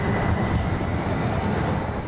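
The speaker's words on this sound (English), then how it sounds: "he saw the train coming and smartly pulled away" A QLINE streetcar runs along Woodward Avenue in Midtown Detroit, giving a steady, close rolling rumble with faint wheel squeal and a thin high whine throughout. No voices are heard.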